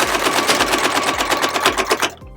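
A sewing machine top stitching along both sides of a zipper on a patchwork pouch, a fast, even mechanical chatter of needle strokes close up, stopping abruptly at the end.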